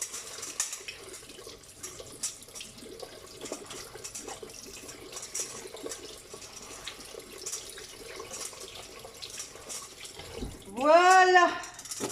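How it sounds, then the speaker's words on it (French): Small potatoes being washed under a running kitchen tap, a soft continuous trickle and splash in the background, followed by a brief louder whining tone near the end. "Allez, on lave ces petites pommes de terre."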